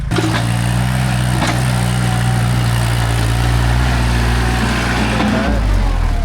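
A tractor engine runs steadily and loudly close by, with a constant low rumbling drone at a forest waterfall site in Thailand. Faint voices may be present underneath.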